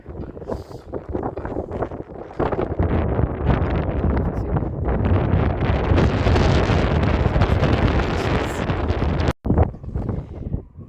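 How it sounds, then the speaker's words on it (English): Strong wind buffeting the microphone on the harbour front in Ramsgate, a loud continuous roaring rush that swells and gusts, ending with a brief sharp dropout before resuming. "Whilst the wind is blowing me away"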